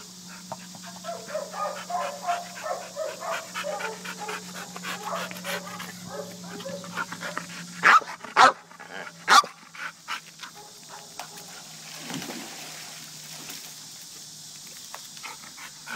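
A dog barks sharply three times in quick succession, loud and close, amid outdoor noise with whimpering and grunting sounds earlier.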